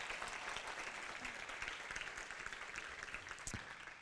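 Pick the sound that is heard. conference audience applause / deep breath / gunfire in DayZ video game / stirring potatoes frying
conference audience applause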